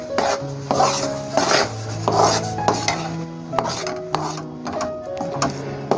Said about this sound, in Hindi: अब इसमें हम बेसन शामिल करते हैं। बिस्मिल्लाहिर्रहमानिर्रहीम। और इसकी भुनाई करनी शुरू कर देते हैं।